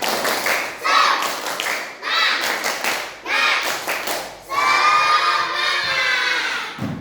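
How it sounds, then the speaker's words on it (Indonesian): Schoolchildren in a classroom doing a rhythmic spirit clap, bursts of clapping in a set pattern mixed with shouted chanting, ending in a longer clap and cheer. "Nah, tepuk semangat."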